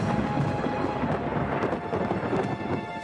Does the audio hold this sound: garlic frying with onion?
no